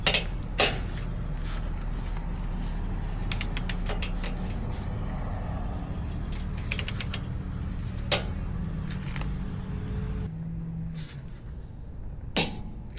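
A torque wrench with a 19 mm socket tightens bolts during a BDS 3-inch lift kit install on a 2024 Ford F-250/F-350, giving a series of close metallic ticks and clicks over a steady low garage hum, no speech.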